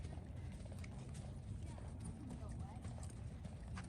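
A Tennessee Walking Horse, a gaited breed, moves with steady, rapid clip-clopping hooves over a faint rumbling background, heard from close range.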